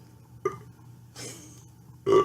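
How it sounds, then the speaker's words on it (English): Two short belches, one quick and one louder and longer at the end, with a faint gurgling bit between them and no speech. "He'll probably just belch it out"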